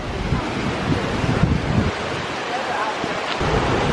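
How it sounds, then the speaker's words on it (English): Loud, steady rushing of water from the top of Paradise Falls, a waterfall in North Carolina, a broad roar with wind buffeting the microphone throughout. "We're at the top of the waterfall now."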